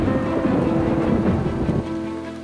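Heavy rain pours steadily onto drying straw, a dense, loud roar of drops with a low rumble beneath, easing slightly near the end.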